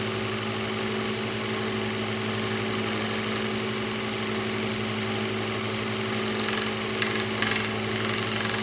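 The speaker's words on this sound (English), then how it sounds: "So the noise that you're hearing, this sandpaper" Sandpaper rubs against a carbon fiber drone frame over a steady low mechanical hum. Short, gritty scraping strokes become audible toward the end.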